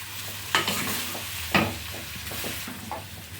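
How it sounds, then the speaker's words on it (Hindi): Potatoes for samosa filling fry in a pan and are stirred, with a steady close sizzle and a couple of sharp scraping strokes of the spoon, no talking. "आलू को हम एक बार अच्छे से मिक्स कर लेते हैं।"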